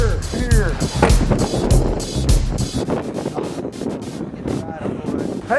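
A strong wind of about 60 miles per hour at Chicknick Bay buffets the microphone with loud, rumbling gusts, while someone talks over it.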